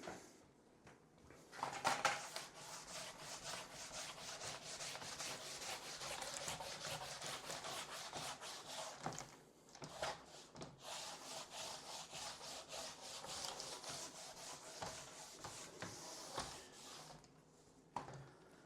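Eraser rubbing out a drawing on a board during an economics lecture: quiet, close, repeated scrubbing strokes in a steady rhythm, with short pauses between bursts.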